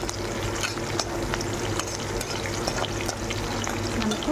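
Dried red chillies, onion and curry leaves crackle and sizzle in hot oil in a pan, a steady close frying hiss with occasional light pops and stirring scrapes.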